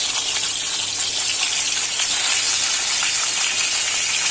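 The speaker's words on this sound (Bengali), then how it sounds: "হলুদ মাখানো শোল মাছ গরম তেলে দিলাম।" Turmeric-coated snakehead fish pieces frying in hot oil, a loud continuous sizzle and bright hiss close to the pan, with no speech.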